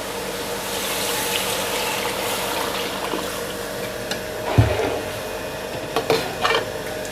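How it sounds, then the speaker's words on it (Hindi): Beef yakhni broth is poured into a pot of yogurt-cooked meat and separated oil, a steady watery rush with sizzling and a few clinks and knocks of utensils against the pot. "तो अब हम इसमें यखनी डाल देंगे।"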